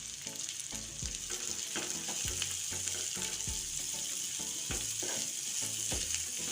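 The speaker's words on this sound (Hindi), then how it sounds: "अब इसमें कटा हुआ प्याज ऐड कर देंगे।" Two medium onions, finely chopped, fry in a pan for a cashew curry, giving a steady loud hiss broken by repeated clattering stirs.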